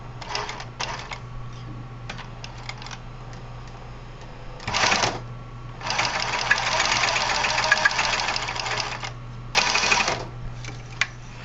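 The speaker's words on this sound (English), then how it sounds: "I'm going to sew this side seam about 1/2 inch from the actual zipper" Bursts of machine stitching a side seam near a zipper, short runs then a long steady whir lasting a few seconds, over a low constant hum, with no one speaking.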